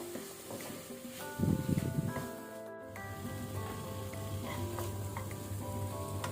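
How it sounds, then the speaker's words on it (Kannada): Spices with turmeric fry on a low flame for veg pulav, a soft steady sizzle under faint stirring and a brief scrape, with a low hum behind it throughout. "ಇದನ್ನು ನಾವು ಸ್ವಲ್ಪ ಲೋ ಫ್ಲೇಮಲ್ಲಿ ಫ್ರೈ ಮಾಡುವ."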